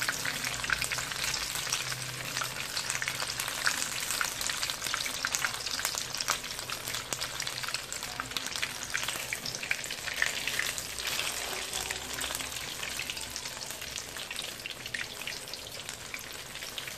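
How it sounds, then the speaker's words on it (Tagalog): Mushrooms fry in a hot pan with a steady, dense sizzle, a continuous crackling hiss that holds at an even level throughout, with occasional stirring and no voices. "Fried mushroom."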